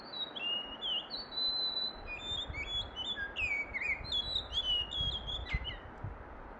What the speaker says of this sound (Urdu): باقی کچھ پرندوں کی آوازیں دور دور آ رہی ہیں، لیکن وہ مدھم آوازیں ہیں۔